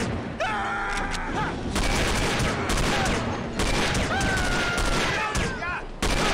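Gunfire in the shooter game No One Lives Forever, dense bursts of shots crackling loudly through most of the stretch, mixed with game sounds and brief voice-like tones.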